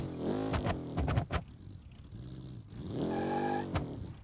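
A tiny rear-engined, rear-wheel-drive car with no rev limiter revs hard in quick blips, then settles to a rough idle and revs again, loud and close with no talking.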